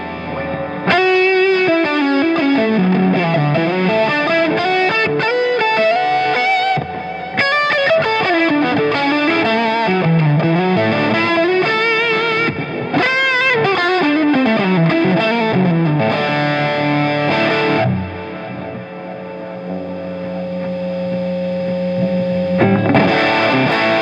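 A distorted electric guitar through Logic Pro X amp, delay and reverb plugins plays chords and riffs with echoing repeats and a roomy reverb tail, loud and steady throughout, ending on a sustained ringing chord.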